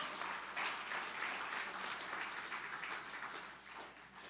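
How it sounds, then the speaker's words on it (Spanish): Church congregation clapping hands loudly for the Lord, a dense, sustained wash of many hands heard faintly and at a distance, without speech. "Dale palmas fuertes al Señor."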